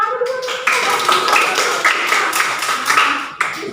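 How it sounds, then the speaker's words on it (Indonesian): A classroom of pupils claps hands in a short burst of applause, close and fairly loud, with some talking mixed in. "Iya, tepuk tangan dulu."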